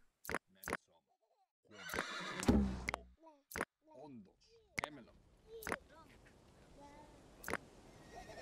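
Horses neighing in the video game Dawn of Man, with several whinnies rising and falling among sharp clicks and a clatter, while someone talks intermittently.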